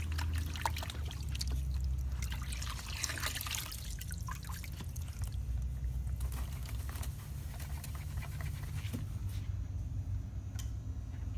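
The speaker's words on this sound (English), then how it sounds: "And you just go splash it in water real good." JL Dustul cleaning tool swished and splashed in water, a continuous run of trickling, sloshing and dripping with occasional sharper clicks and knocks, close and steady without talk.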